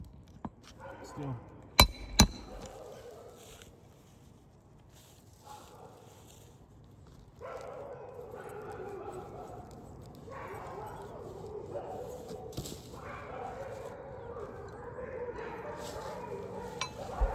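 Dogs bark and yip nearby, short scattered bursts over a steady low background, with some footsteps and a person talking at times.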